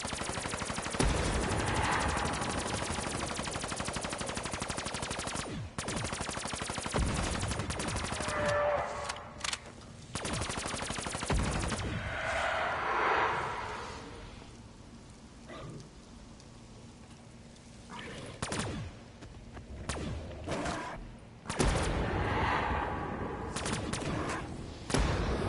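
Rapid automatic gunfire from a zombies-round video game rattles almost continuously in long dense bursts, loud and close, with a few brief pauses between volleys.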